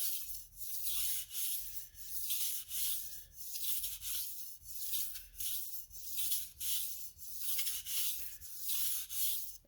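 A Western chef's knife sharpened on a whetstone: steady rhythmic scraping strokes, back and forth about every second, close and clear with no talk.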